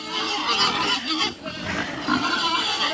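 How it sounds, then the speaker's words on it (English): Pigs on a farm with a Boer goat herd grunt and squeal loudly and without pause, a close, busy chorus of several animals. "Pigs are noisy."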